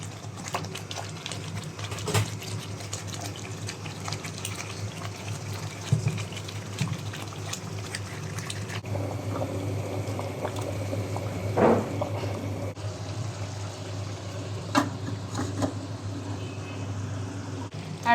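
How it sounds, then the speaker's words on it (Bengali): Roast pieces go into spiced oil in a pan, and a steady, faint sizzle and bubble carries on throughout, with occasional clinks and stirring. "রোস্টগুলা দিয়ে দিব।"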